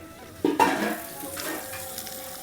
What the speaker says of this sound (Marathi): आपण देऊ आता मिरची आपल्या मंद आचेवर भाजायची आहे आपल्याला